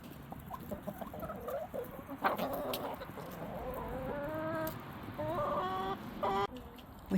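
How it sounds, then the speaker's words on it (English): Farm chickens cluck and call in a yard, scattered bursts of clucks and short tonal calls at moderate distance over a faint background rustle. "Pretty, pretty chickens, aren't they?"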